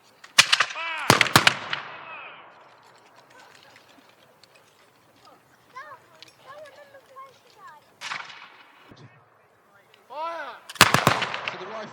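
Napoleonic British infantry fire a musket volley in a historical display at the Royal Gunpowder Mills, with sharp cracking reports in ragged clusters at a distance, shouted commands between them, and birds calling in the open air.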